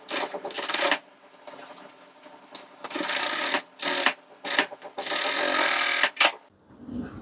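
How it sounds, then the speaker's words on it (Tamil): A sewing machine stitches along a garment neckline, beginning with a lock stitch: several bursts of rapid, loud mechanical whirring separated by brief pauses, with no talk. "ஸோ ஸ்டார்ட் பண்ணுறப்போ ஒரு லாக் ஸ்டிச்சோடு ஸ்டார்ட் பண்ணிக்கோங்க."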